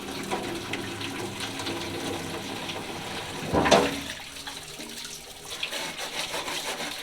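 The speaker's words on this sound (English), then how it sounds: "With the roller tray, I'm just going to rinse it off." Water runs from a faucet while a paint roller tray is rinsed in a sink, a steady splashing hiss with a brief louder gush midway as the stream strikes the tray.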